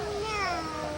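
A young girl growls in imitation of a lion, a single sustained, close, rasping voiced cry of about a second with a wavering tone, produced alone with no other talk over it.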